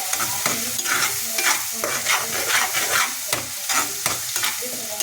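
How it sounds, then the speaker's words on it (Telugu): A paste of tomato, onion and cashew fries in a pan for paneer masala curry, a continuous sizzle broken by repeated scraping stirs of a spatula, close and fairly loud, with no talking. "వేసి గోరగా వేగించాలి, కొంచెంసేపు వేగించాలండి"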